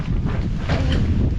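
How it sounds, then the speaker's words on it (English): Strong wind at a solo container home build site blasts and buffets the microphone in a loud, continuous roar with no other sound. "That's how windy it is."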